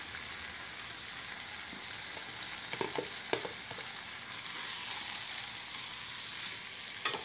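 Water spinach stir-fried with bird's eye chilies, large red chilies and tomato, a faint steady sizzle with a few clustered spatula scrapes and stirring knocks near the middle and end, no talk.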